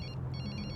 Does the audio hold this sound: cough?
no